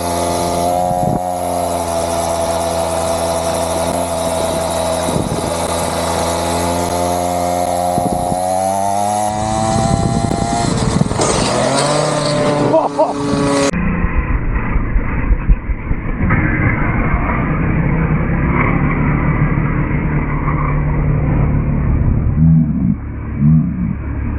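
A worn-out pocket bike engine runs alone with its idle set too high, a steady close buzzing drone that surges briefly near the middle before settling into a rougher, throatier running note.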